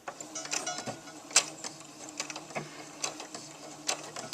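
Straight stitching on a sewing machine joining two pieces of dog bandana fabric, a quiet mechanical whir with irregular clicks and ticks, fairly close and fairly soft, with no talking.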